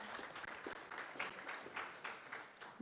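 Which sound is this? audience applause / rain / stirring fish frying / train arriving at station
audience applause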